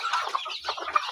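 Chicks or chickens kept loose on a farm peep and cluck in quick, overlapping calls, close and moderately loud for about a second, with no talking.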